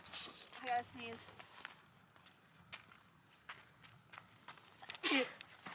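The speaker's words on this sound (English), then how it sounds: "I gotta sneeze." A person sneezes outdoors while ice fishing on a frozen lake: a sharp, loud burst near the end, with voices chatting earlier in the quiet, open air.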